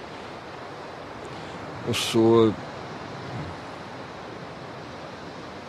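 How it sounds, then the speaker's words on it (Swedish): Ocean waves wash near the shore as a steady, rushing background noise, briefly interrupted by a short spoken phrase from a man. "var det ju den här märkvärdiga närheten till havet som naturligtvis då för ljudet var väldigt störande emellan"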